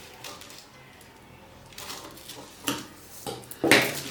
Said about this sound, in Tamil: கிளாத்தில் அப்படியே ட்ரேஸ் பண்ணி கட் பண்ணிடலாம்